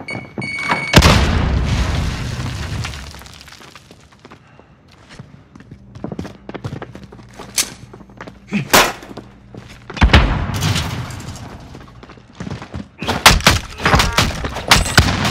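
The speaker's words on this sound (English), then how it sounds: "Soldier incoming. Throwing frag." Frag grenade detonating in the video game Plunder, a loud booming blast followed by scattered thumps, clanks and further impacts over several seconds, with no voices.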